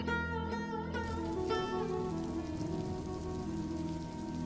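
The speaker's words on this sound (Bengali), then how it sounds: "এখন তো বৃষ্টি হচ্ছে" Steady rain pours down in a Bengali fairy-tale cartoon, a continuous even patter of drops under a sustained musical tone that fades as the downpour carries on alone.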